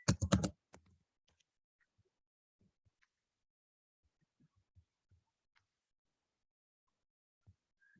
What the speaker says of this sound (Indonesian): kita ketik nama relasinya di sini